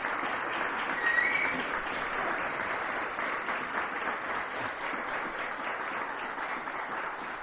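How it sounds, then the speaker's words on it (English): Sustained applause from an audience thanking a discussion panel at a diversity and immigration event, a steady dense wash of clapping with a brief swell near the start and no talk over it. "Let's have another round of applause for our panel."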